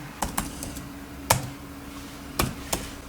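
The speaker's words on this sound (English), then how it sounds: "And now just type" A laptop keyboard on an Acer A515-51 is struck in sparse, uneven keystrokes. Five or six crisp taps, some in quick pairs, land over a low steady hum, close and fairly quiet.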